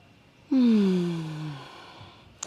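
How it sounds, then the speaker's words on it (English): A single deep breath drawn in during a yoga flow from downward-facing dog, one long, close, voiced inhale and sighing release, clear and loud, followed by quiet. "Take a nice deep breath in."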